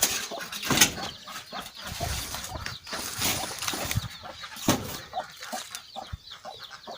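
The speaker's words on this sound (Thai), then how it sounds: "ไก่บ้าน" Native free-range chickens cluck in a backyard pen, several hens giving repeated short clucks at moderate distance, with scattered bird calls and no talking.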